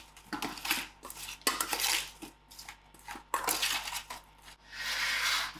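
Batter ingredients for a home-cooked hake dish being mixed in a bowl, with repeated scraping and clinking of utensil against dish in irregular bursts, close and fairly loud, no voices.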